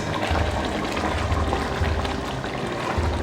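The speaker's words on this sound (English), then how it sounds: "The grilled cauliflower goes in. This will not take any time to cook at all. I'll just stir it." Grilled cauliflower is stirred into a pan of simmering lamb and vegetables, giving a continuous wet bubbling and sloshing texture with low thuds, close and fairly loud, with no voices.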